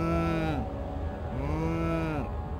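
A person imitates a cow mooing with two long, low, droning moos, close and loud, each holding a steady pitch before it drops off.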